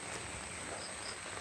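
Steady, faint rain hiss falls evenly and continuously, with no voices over it.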